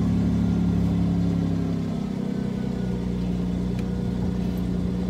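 An inline six-cylinder pickup truck engine strains under a heavy load of scrap metal, a steady close drone that dips briefly in pitch midway then holds on, with no talking.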